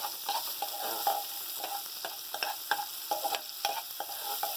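Onions sizzle in hot oil in a pan while being stirred, a steady crackling fry broken by repeated scraping strokes of a spoon, close and fairly loud with no voices, part of cooking for a chicken tikka pizza.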